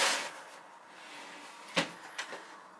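A case holding a new Glock pistol is opened: faint handling noise, then a sharp latch click followed by two smaller clicks and a plastic rustle, close and quiet with no talk.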